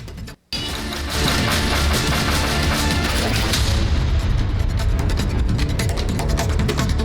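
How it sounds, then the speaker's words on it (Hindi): A volcanic eruption at Kilauea on Hawaii's Big Island: a loud, continuous roar of rumbling blasts and crackling bursts, dense and chaotic, after a brief silent gap near the start. "हवाई के बड़े द्वीप किलाउआ पर ज्वालामुखी विस्फोट"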